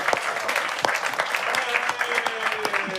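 Live audience at a shayari poetry gathering clapping with a dense, steady patter that stays fairly loud throughout, with a voice talking faintly underneath.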